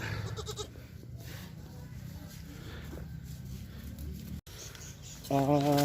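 Goats bleat on a small goat farm, with one short, close call near the end. People talk through much of the clip against a busy outdoor background.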